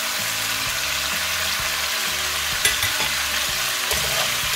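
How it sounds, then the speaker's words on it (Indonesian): Chicken pieces fry in plenty of oil in a wok, giving a steady, close sizzle with a few stirring clatters and small pops throughout, and no talking. "Ini ayamnya udah selesai kita goreng ya."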